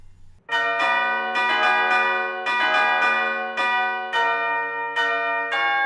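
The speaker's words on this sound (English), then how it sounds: "the monumental Elizabeth Tower, home to Big Ben, which chimes across London no more" Big Ben, the great bell in Elizabeth Tower, London, tolls in several loud, ringing strikes, each struck tone swelling then decaying under a steady sustained hum, with no talk over it.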